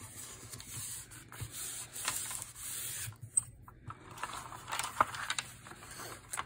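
Hand rubbing and smoothing paper glued onto a junk journal cover, a soft, close, uneven swishing friction in repeated strokes with brief pauses between passes.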